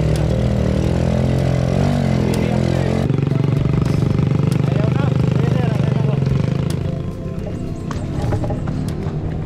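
A motorcycle engine drones loudly nearby on a steep, rocky mountain road, its strained tone shifting and then easing toward the end, with people talking over it.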